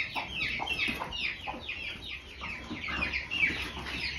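A broody hen near her incubation nest clucks repeatedly in short, close, fairly loud bursts with a steady rhythm and no talking.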